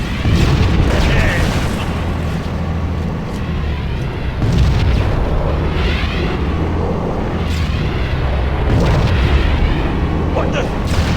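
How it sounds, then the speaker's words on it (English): Heavy booming blasts from Covenant mortar tanks in the video game Halo: Combat Evolved, several loud explosions with gunfire and battle noise, under voices talking. "Enemy mortar tanks sighted at my position."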